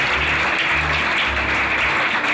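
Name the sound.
round of applause at charity auction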